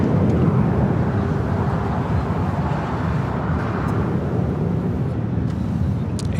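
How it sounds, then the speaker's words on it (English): An American Airlines Airbus A321 taking off at LAX gives a steady, broad jet roar that holds loud and constant throughout, heard from a spotting position with no talk over it. "This is American Airlines 382 taking off to Boston on the A321."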